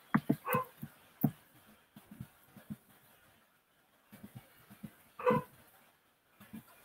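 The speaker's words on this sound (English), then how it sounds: "And there's Mrs. Bond barking." A dog barks in short bursts with pauses, mixed with soft whimpers and yips, fairly quiet and a little distant.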